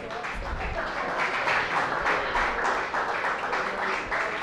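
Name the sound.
audience applause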